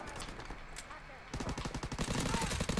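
Rapid automatic gunfire from a World War II–era weapon in the video game Call of Duty: WW2, dense repeated shots growing louder and more continuous in the second half, close and sharp with faint game ambience.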